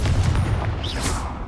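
Short loud burst from the Confringo blast spell in Hogwarts Legacy, cast inside a cave, a single booming hit with a fiery whoosh trailing off.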